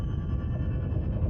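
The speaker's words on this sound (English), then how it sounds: "here's an example of an earthquake, and it's all low-frequency energy" An underwater earthquake recording gives a dense, continuous low rumble with no distinct events, steady and loud throughout.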